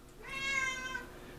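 A pet cat named Star gives a single clear meow, fairly faint and alone against a quiet room background.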